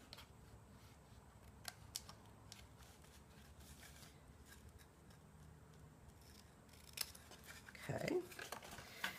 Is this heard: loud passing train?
no